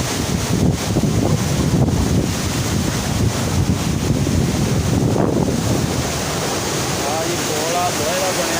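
Fast-flowing water rushing through the Head Munda Branch canal, a loud, constant roar heard up close with heavy wind buffeting the microphone throughout; a faint voice surfaces briefly near the end.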